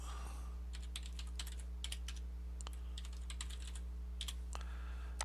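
Keys clatter as a password is typed on a computer keyboard, in short irregular clusters of quiet clicks over a steady low electrical hum.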